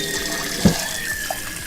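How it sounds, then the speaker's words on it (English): Kitchen tap water running steadily into a pot for ramen, a continuous splashing rush with a brief thump as the pot shifts, close and alone. "Those kind of tell me where I should fill the water up to."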